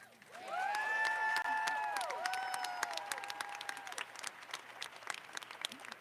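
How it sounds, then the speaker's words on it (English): Audience applause at a child care workforce event swells quickly into sustained, dense clapping with a few bright whoops or whistles, then gradually thins toward the end. "Another round of applause for Megan"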